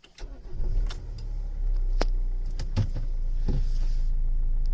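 A manual-transmission car's engine is switched off and started again, with sharp clicks followed by a steady low running rumble that settles in close and fairly loud.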